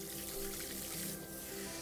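Water runs steadily from a salon shampoo-bowl tap while hair is being washed, a continuous close hiss and splash with no talk over it.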